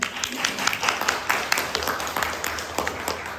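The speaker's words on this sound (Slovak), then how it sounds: "Tu dajme rýchly potlesk k tejto myšlienke." A lecture audience gives a quick burst of clapping, dense and lively, lasting a few seconds at close to moderate distance.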